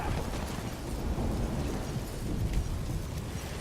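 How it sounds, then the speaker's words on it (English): A magic explosion in The Witcher 3 rumbles as a dense, continuous roar with deep low-end boom and crackling debris, sustained and steady for several seconds without speech. "A magic explosion of some sort. So powerful that even the echo was dangerous."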